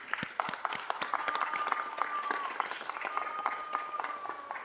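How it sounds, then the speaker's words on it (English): City council meeting audience applauds for Carla Amundsen with moderate, fairly distant clapping that holds steady, and a thin high tone lingers faintly beneath. "round of applause for Carla."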